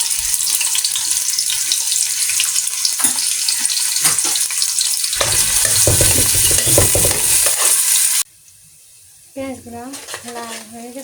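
Onions with whole peppercorns, cinnamon, cardamom and cloves fry in hot oil, a close, busy sizzle with stirring scrapes; near the end the sizzle cuts out and a brief tap-water splash and clatter follow, without any talking.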